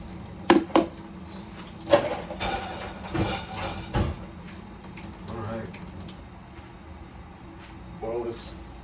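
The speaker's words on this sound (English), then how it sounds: "Boiling, folks, and I'm sitting here stirring it up" Metal spoon clinks and scrapes against a pot of lasagna soup amid a low bubbling simmer, with scattered clatters and faint talk in the background.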